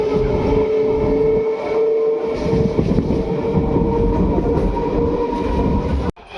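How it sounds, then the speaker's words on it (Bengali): A passenger train pulls out of Nabadwip station, heard from on board. Rumbling carriages and rail noise hold steady and loud throughout, then cut off abruptly just before the end. "আমাদের ট্রেনটা তাহলে এখন স্টেশন নবদ্বীপ স্টেশন থেকে ছেড়ে এলো"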